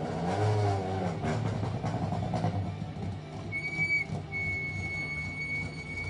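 Peugeot 205 GTI 1600 rally car idling loudly at a rally start podium, a steady low engine rumble with light revving and crowd ambience, a faint whistle-like tone appearing near the end.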